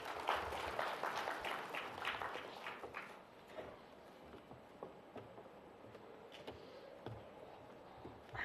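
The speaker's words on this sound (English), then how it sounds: "let's give a warm round of applause to Dr. Lalit Liyanage" A conference audience at an international water conference claps to welcome a speaker to the stage; dense, somewhat distant applause fills the first few seconds, then thins into scattered claps and fades.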